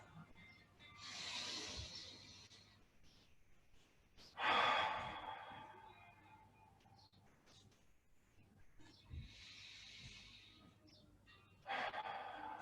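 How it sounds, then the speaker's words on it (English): Deep breathing during a Pilates class: several slow, breathy inhales and exhales, one louder gasp-like breath near the middle, heard close and fairly quiet with no talking. "let's continue to breathe deeply as we move through this class"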